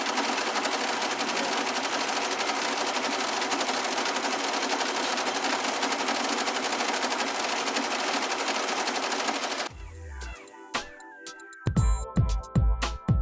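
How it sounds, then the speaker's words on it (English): An embroidery sewing machine automatically stitching a logo design gives off a loud, dense, continuous mechanical whir for most of the span, then stops and gives way to a few sharp, irregular clacks and knocks near the end. "we're going to put this right here, and it's going to automatically sew the design on it"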